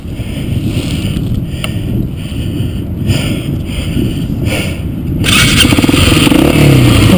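A Blata 125 BXE motorcycle engine runs steadily close by on ice in winter, with a gritty, throbbing rumble and gusty wind buffeting, then grows louder near the end.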